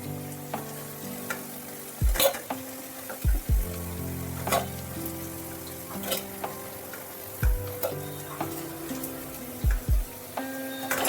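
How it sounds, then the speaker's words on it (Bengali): Cauliflower pakoras deep-frying in hot oil give a steady close sizzle, broken by several sharp clinks of a utensil against the pan; no voices. "এইভাবে লাল লাল করে ভেজে নিয়ে একটা পাত্রের মধ্যে তুলে নিতে হবে"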